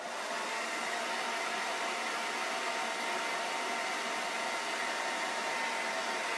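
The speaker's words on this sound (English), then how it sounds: "I got to get my hair dryer here because his eyes are still wet." A hair dryer blows steadily and close up on wet paint, a continuous broadband whoosh with no pauses or talking.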